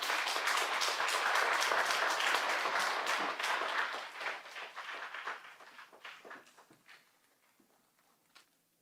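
A church audience applauds to welcome a pastor, a dense burst of clapping that thins into scattered claps and fades to near silence.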